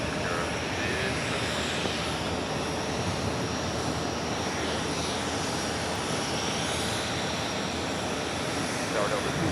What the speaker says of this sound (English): They just climb. Off to Brussels, 787-9 Dreamliner.